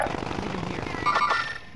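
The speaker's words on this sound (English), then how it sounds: "Oh, getting shot at." Rapid automatic gunfire in Call of Duty: Modern Warfare, a fast steady burst of shots at moderate distance with a brief higher ringing tone near the end, no voices.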